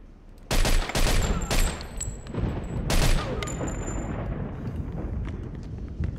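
Bursts from a grease gun in the Mafia 2 video game: several sharp, loud volleys in the first few seconds with metallic ringing tails, then a quieter rumbling bed of game noise.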